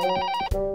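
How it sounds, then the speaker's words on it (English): Cartoon telephone ringing, a bright electronic ringtone with stacked tones and a brief pulsing pattern, loud and close, with no talking over it. "The phone is ringing."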